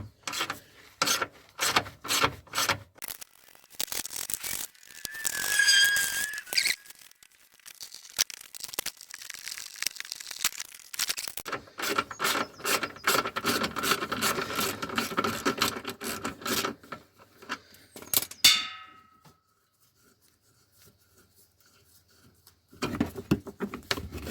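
Ratchet with a 13 mm socket working bolts loose on a Subaru Legacy during an oil change: bursts of close, rapid clicking and scraping come in irregular runs, then fall nearly silent.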